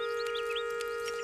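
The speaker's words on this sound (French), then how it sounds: "Écoute ça, tu entends tous ces oiseaux?" Cartoon birds chirp and cluck in a berry patch, a run of short rising and falling calls over a steady high electronic tone, moderately loud and alone with no talking.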